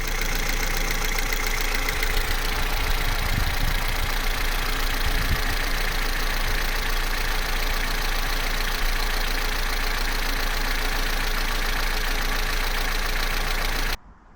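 A cold Vauxhall Corsa C 1.4 engine idles steadily with a noisy timing chain, a continuous close mechanical drone with faint ticking running for about fourteen seconds before cutting off.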